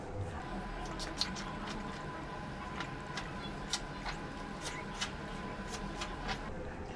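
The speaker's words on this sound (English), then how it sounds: "I'm gonna pump this onto my scalp, and then I'm gonna use like a washcloth to kind of rub" Shea Moisture Head in the Clouds coconut and cactus water shampoo being worked into the scalp with a washcloth gives a steady close-up wet rubbing and squishing, with small sharp ticks and clicks scattered through it and no talking.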